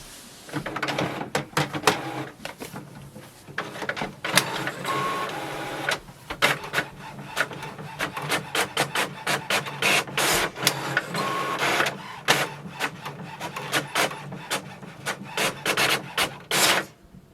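An HP OfficeJet Pro 8025 inkjet printer runs through a page, with rapid mechanical clicks, whirring and sliding bursts repeating in an uneven rhythm, close and fairly loud.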